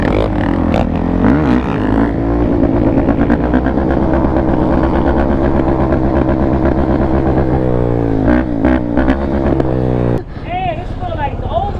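A Yamaha YZ450F dirt bike engine revs hard and loud while ridden, a steady droning roar with rising and falling pitch throughout, and a voice talking over it.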